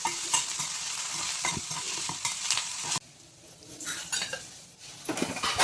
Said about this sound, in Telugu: ఇది ఫ్రై అయిన తర్వాత ఇందులోనే కొంచెం పుదీనా కూడా యాడ్ చేసుకొని ఇది కూడా మంచిగా ఫ్రై చేసుకోవాలి